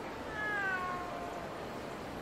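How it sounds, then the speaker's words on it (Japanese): A cat in the Osaka Sotenbori district of the video game Like a Dragon Gaiden lets out a single faint, drawn-out meow that trails downward, heard over a low ambient background. "うわ、猫ちゃんか。"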